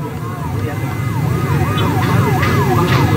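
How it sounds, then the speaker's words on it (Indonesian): An ambulance siren wails in a repeating up-and-down sweep as it passes along a busy Jakarta street during a street protest, loud over dense traffic rumble with no voices. "ada sejumlah ambulans yang lalu lalang"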